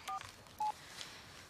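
Telephone keypad tones as a number is dialed, two short beeps with a gap between them, alone and fairly faint in a quiet room.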